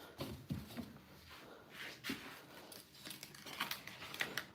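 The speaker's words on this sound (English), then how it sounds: "You can hear the paper sticking." Paper sticking and peeling as drawings are handled during mixed-media artwork, with several soft crinkling, tearing rustles rising and falling close by, no talk.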